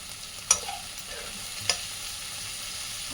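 Onions and ginger garlic paste fry for a brinjal curry, a soft steady sizzle under two sharp spoon clicks against the pan, nearby and with no talking.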